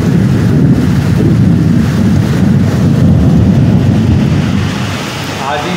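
Loud, steady downpour roaring without a break, a dense wash of rain noise that eases slightly near the end.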